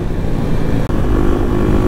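Kawasaki KLX300 dual-sport motorcycle engine revving, a steady, loud, close throaty drone held for under two seconds with one brief dropout midway.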